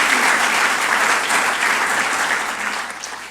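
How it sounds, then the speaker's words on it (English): Sustained audience applause at a school athletics hall of honor induction ceremony, a dense wash of clapping from a large crowd that fades slightly toward the end. "If we could have a round of applause for Rachel and Mark for that work,"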